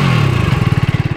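A warmed-up Motron Nomad 125 motorcycle, a 9.5 kW single, revved close by: a loud engine note climbs briefly, then settles into a rapid, even thumping pulse.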